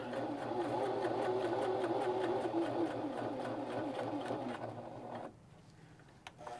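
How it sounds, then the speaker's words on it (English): Sewing machine running a stitch along a jeans hem, a steady close whirring with rapid needle rhythm for about five seconds before stopping, followed by quiet handling sounds. "It helps to have your machine threaded this way because that way you don't have to unthread and rethread all the time for the whole project"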